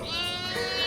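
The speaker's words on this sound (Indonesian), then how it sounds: "Gimana tadi suara dombanya?" A sheep bleats once, a quivering, nasal cry under a second long, loud and close with no speech.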